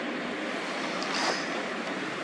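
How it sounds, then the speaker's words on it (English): Tidal water rushing into an estuary, a steady broad roar of flowing water and surf with some wind noise, continuous and fairly loud throughout. "as you can see all the water rushing in, filling in this estuary"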